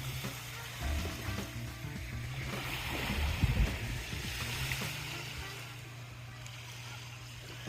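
Soft water at the Chesapeake Bay washes and laps in a low, steady murmur, faint and distant, with a slightly louder swell near the middle and no talking.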